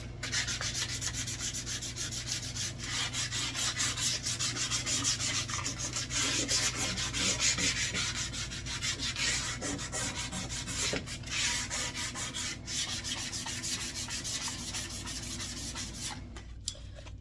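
Varnish is hand sanded off wooden side table drawers with coarse sandpaper, giving a continuous, close scratchy rubbing with rhythmic strokes and no speech.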